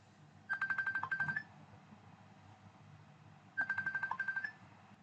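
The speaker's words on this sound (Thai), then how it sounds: "พอดีมีสายเข้านะครับ" A mobile phone rings for an incoming call: two identical bursts of rapid electronic beeping, each about a second long, separated by a pause, fairly faint against a quiet room.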